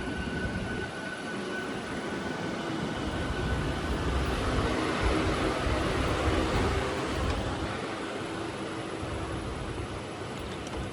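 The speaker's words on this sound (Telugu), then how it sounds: "ఈ ట్రైన్ లాలాగూడ గేట్ స్టేషన్ చేరుకుంది." An MMTS suburban train pulls into Lalaguda Gate station on the Secunderabad–Medchal line, heard as a steady, moderately loud rumble and hiss of the moving train with no talk.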